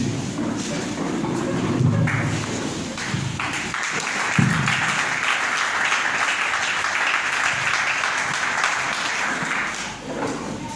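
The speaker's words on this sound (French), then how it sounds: "Que Dieu vous bénisse pour les acclamations" A church congregation applauds and cheers at a deliverance sermon, a sustained wash of clapping with voices beneath, building after a few seconds and holding steady until it fades near the end.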